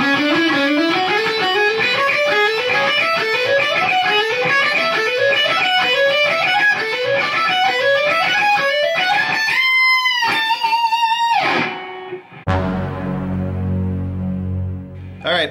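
A fast electric guitar lick in mixed picking, rapid repeating rising note patterns played cleanly and loud, climbing into high bends and trills before ending on a sustained low chord.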